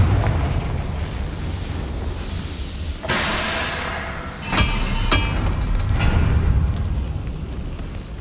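Confringo spell blasts in the game Hogwarts Legacy, loud fiery explosions with sharp bursts around the three- and five-second marks over a rumbling, crackling bed.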